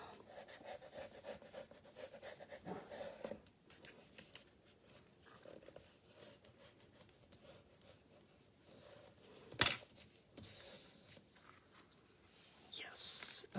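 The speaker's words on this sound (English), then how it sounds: "Okay, I'm going to go ahead and rub them a little more." Folded paper card creases are rubbed flat, giving soft, repeated scraping strokes that stay faint and close, with one sharper scuff near the end.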